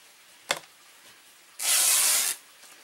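Fabric is torn along a hemline into a long strip, a single sharp rip of under a second, followed by a short snap earlier, close and alone without talk.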